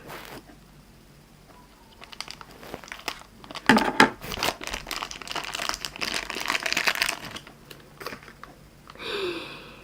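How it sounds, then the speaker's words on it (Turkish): Plastic packaging crinkles and rustles up close as it is cut open with scissors, with bursts of snipping and tearing and quiet pauses in between. "O yüzden makas yardımıyla açacağım."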